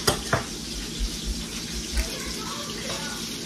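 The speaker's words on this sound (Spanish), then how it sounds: "también el pescado que se está friendo" Fish frying in a pan in a home kitchen, a steady soft sizzle with hissing texture, joined by a low hum like a refrigerator and a couple of brief clatters near the start.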